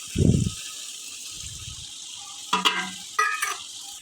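Homemade masala of coriander seed, cardamom and cumin goes into frying tomatoes for chicken biryani. A steady soft sizzle runs throughout, broken by a few short clattering stirs of a utensil in the pan.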